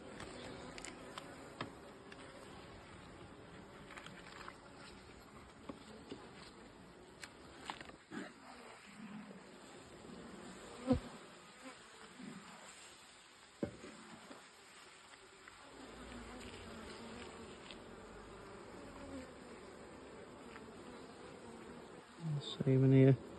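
Honey bees drone and buzz steadily around an open hive during a frame inspection, with a continuous close hum, a few sharp handling knocks, and a louder burst near the end.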